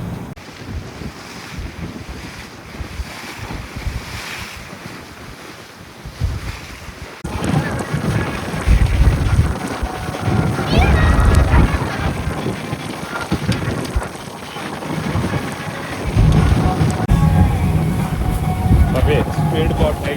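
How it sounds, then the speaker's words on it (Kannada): A speedboat runs over clear sea off the Bahamas, with steady engine and hull noise, rushing water and strong wind buffeting the microphone, growing louder partway through, while people talk over it. "ಸ್ಪೀಡ್ ಬೋಟ್ ಹೇಗಿದೆ?"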